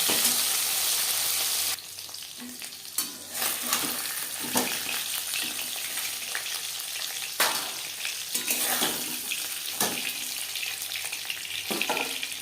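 Hilsa fish pieces fry in a pan of oil for a potato and hilsa curry, a close crackling sizzle that drops in level partway through, broken by spatula scrapes and clatters; no voices.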